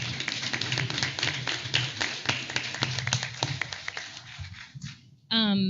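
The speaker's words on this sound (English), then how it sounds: "so big hand for that" Clapping from an audience at a school board meeting honoring a boys' team's state finish: many hands clap in a dense, even patter that fades out, then a voice begins talking.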